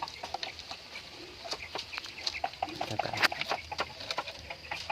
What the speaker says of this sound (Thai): ไก่แจ้ครับ